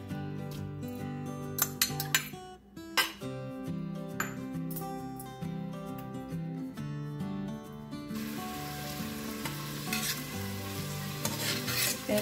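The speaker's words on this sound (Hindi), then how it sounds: "अब हम इसमें प्याज डालते हैं।" Onions frying in hot oil in a pressure cooker, a steady sizzle with scraping stirs and light metal clinks near the start, close and continuous without talk.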